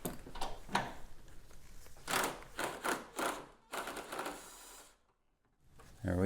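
A ratchet on a wobble extension removes a front strut nut on a 2009 Honda Civic, giving bursts of fast, close clicking that stop and start before a short silence.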